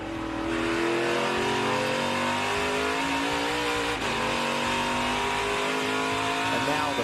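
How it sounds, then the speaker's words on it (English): A NASCAR Craftsman Truck Series truck at Lime Rock Park revs hard and loud as the driver bangs down through gears into a tight right-hander, with the engine note climbing and dropping through throttle changes, close and continuous. "Banging those gears down into the tight right-hander. And just all this throttle nuance."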